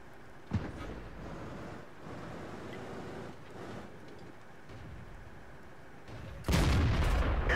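Tank gun fire in a tank video game with a Hellcat and a Matilda: a sharp boom early on over a steady rumbling engine and battle din, then a louder, sustained blast of noise near the end.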